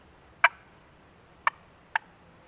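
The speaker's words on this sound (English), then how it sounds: "Other calls you can use would be like a cluck." Three short, sharp clucks from a wooden turkey box call, spaced irregularly and heard alone against a quiet background.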